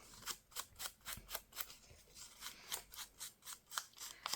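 Scissors snip through craft paper from a 6x6 pad in a quick, steady run of about twenty crisp cuts, close and clear with no talking.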